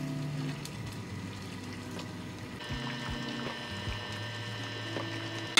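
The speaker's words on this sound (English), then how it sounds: "add them to boiling water and boil them" Dumplings boiling in water at a rolling boil with soft patter and occasional clinks, a steady low hum underneath, no voices.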